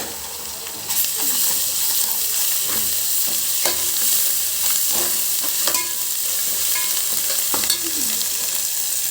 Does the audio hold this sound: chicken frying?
yes